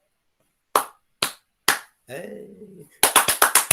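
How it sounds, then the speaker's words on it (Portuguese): A teacher claps hands in a classroom: three separate sharp claps, a brief spoken word, then a quick run of five or six claps, close and crisp. "Bate palmas. Esse som é um código."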